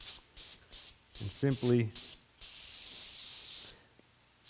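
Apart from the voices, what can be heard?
spraying brake cleaner on motorcycle brake reservoir cap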